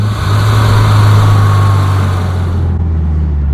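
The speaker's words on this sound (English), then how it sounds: "Here, I'll give you a downshift." A 2018 Subaru WRX with a Stage 1+ tune, its engine droning loud and steady with a strong low rumble that eases off in pitch near the end as the downshift settles.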